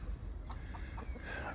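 Backyard chickens cluck softly in short repeated calls, with a rooster sounding nearby over a low outdoor hum.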